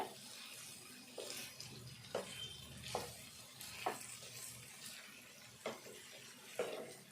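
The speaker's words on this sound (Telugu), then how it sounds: "ఇంకా కొద్దిసేపు కూడా వేగుతాయి, ఇవి మంచిగా వేగుతాయి" Pieces of spiny gourd (boda kakarakaya) fry in a pan with a steady low sizzle, broken by several sharp clinks and stirring scrapes spaced every second or so, close and moderately loud, with no voices.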